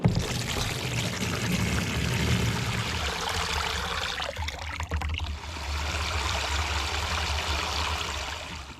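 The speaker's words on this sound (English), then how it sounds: "don't use a watering can like I'm about to do" Rainwater from a barrel poured from a watering can into a Greenstalk vertical planter, a steady close splashing pour running continuously with a slight dip midway, no talking.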